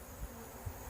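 Honeybees from a weak colony being combined with another hive, a steady, fairly faint buzzing hum of many bees around the box with a couple of brief low bumps, no talking.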